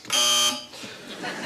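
Another panel buzzer on a television quiz show sounds as a single loud, steady electronic tone of roughly half a second, followed by softer studio noise and murmur.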